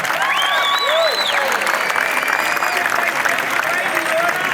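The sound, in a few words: applause at a rally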